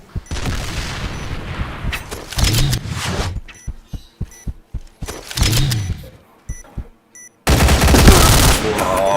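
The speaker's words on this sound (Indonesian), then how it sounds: "Anjir, berisik amat nih senjata anjir" Rapid automatic gunfire in a shooter video game, loud and close: sustained bursts and sharp repeated shots with booming impacts, broken by brief pauses, then a dense final barrage.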